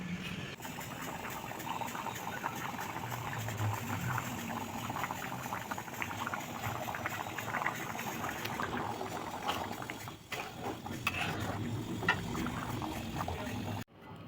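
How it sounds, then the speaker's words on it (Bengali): A red egg curry sauce simmers in a pan, a soft continuous bubbling and fizzing that stays steady and close throughout before cutting off abruptly near the end. "সাঁতলিয়ে একটু যখন বুকবুক করবে তারপরে আমি এই ডিমগুলো ছেড়ে দেবো"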